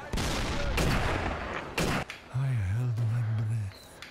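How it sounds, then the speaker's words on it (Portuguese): Artillery strike explosions in the video game Sniper Elite VR: a burst of loud booming blasts and thuds, then a wavering low rumble and tremor that fades out. "Eu convoquei uma artilharia. Nossa, tem umas explosões que tá uma tremida."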